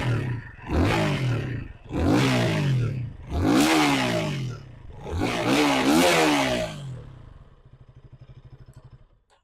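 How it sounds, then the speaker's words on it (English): A KTM Duke 160 motorcycle's exhaust barks through four sharp, loud revs in quick succession, then settles into a quieter idle. "let's check out what the exhaust sounds like"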